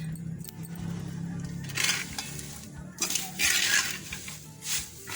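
Spices roasting for Telugu-style sambar powder are stirred in a pan with a metal spoon, giving bursts of dry rattling and scraping that grow louder and more frequent in the second half, close up with no voices.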